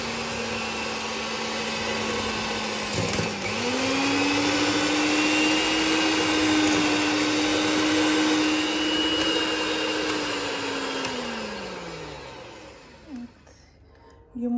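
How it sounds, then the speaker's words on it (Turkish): An electric mixer whisks eggs and sugar for cake batter with a steady, close motor whir that rises in pitch for several seconds, then slows and fades near the end. "Şimdi çırpmaya başlıyorum."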